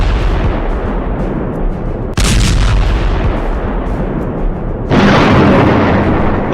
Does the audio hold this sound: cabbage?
no